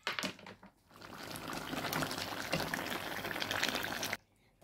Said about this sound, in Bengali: মাছটা আমি বানাইয়া ধুইয়া ক্লিন করিয়া নিচ্ছি।